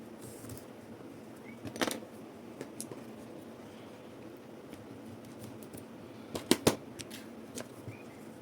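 Scissors snip off excess yarn on a crochet bag: a few crisp, close cuts, one near the start and a quick pair later, over a quiet room with no talking.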